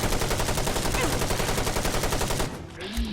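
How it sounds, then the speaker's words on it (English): Rapid FN FAL rifle fire in Fallout 4 rattles out in a fast, sustained automatic burst for most of the moment, loud and close, then cuts off, leaving quieter game sounds. "Good all-round shooting there"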